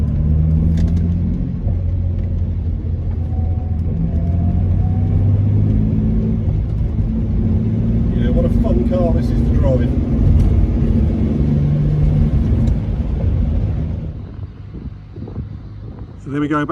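A 1961 Jaguar Mark 2 3.8 on the move, its engine giving a steady low rumble with wind buffeting throughout, easing slightly near the end; someone talks over it.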